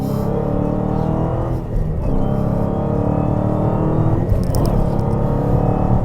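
A 2016 Dodge Hellcat accelerates hard on a road in Clearwater, Florida, its engine a loud, continuous, deep rumbling roar held close, with brief shifts in pitch as it pulls.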